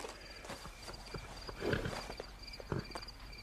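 Horse hooves clip-clop at a walking pace in a Wild West setting, a few soft irregular thuds set against low background noise, with no talking.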